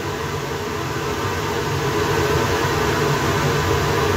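Flow bench drawing air through a ported 70mm Accufab throttle body for a Foxbody Mustang, a steady, loud rushing whoosh that holds constant throughout.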